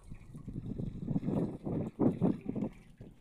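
Strong wind buffets the microphone in rough, uneven gusts, a loud low rumble that rises and falls without pause.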